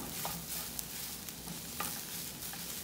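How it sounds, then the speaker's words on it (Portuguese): Crab meat is stirred with dendê oil in a hot pan, giving a quiet, continuous sizzle. Faint scraping clicks from the stirring come through a few times. "Aqui a gente vai misturando bem. Pra pegar bem o dendê em toda essa carne de siri."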